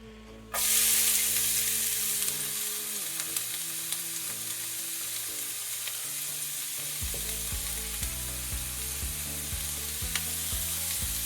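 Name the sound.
onion sizzling in hot olive oil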